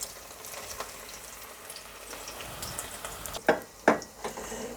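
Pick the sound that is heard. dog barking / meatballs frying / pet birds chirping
meatballs frying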